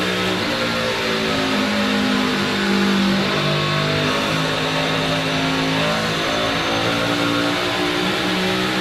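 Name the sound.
NASCAR Toyota truck engine revving as driver works throttle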